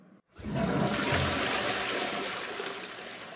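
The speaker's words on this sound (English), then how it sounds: "I'm going to flush my dad's phone down the toilet." A cartoon toilet flushes with a loud, close, sustained rush of swirling water that starts abruptly after a brief silence and slowly tapers off.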